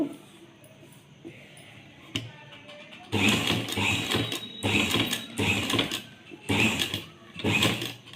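Sewing machine stitching a cut work blouse, running in slow bursts of mechanical whirring and clatter with short pauses at the corners, close and loud after a quieter start of small handling sounds.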